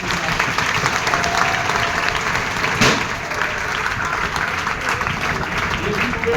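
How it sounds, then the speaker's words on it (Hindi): A group in a classroom or gathering claps steadily and loudly for a former student now working, sustained applause with voices mixed in over it. "पर जोरदार"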